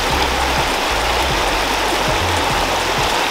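A small river stream flows with a dense, constant rush of water, loud and close throughout, with no voices over it.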